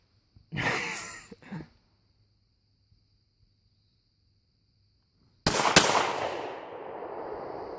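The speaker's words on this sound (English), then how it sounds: "So now I'm gonna shoot the red out." Pistol gunfire at a range, part of a comparison of double-action and single-action handguns from CZ, SIG, KAHR and Glock: one sharp report with a quick follow-up, a long silence, then a louder close shot with a ringing decay.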